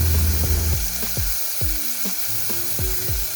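Steak sizzling in a pan over a campsite stove at night, a steady frying hiss with repeated short scraping knocks of a utensil against the pan, close and fairly loud, no voices.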